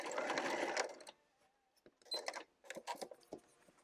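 A sewing machine running on quilt binding in a short close burst that stops after about a second, followed by scattered clicks and handling noises as the fabric is turned.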